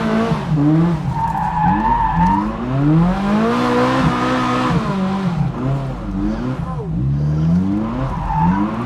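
Ferrari with small turbos skidding hard at a charity car event, tires squealing in long wailing sweeps with engine revving underneath, loud and continuous throughout without pause.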